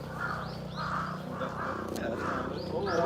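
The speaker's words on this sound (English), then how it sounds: "And then the crow going over the body of the pigeon." Crows cawing on a Tokyo street, several harsh repeated caws spaced through the clip over steady street background hum, fairly near and clear.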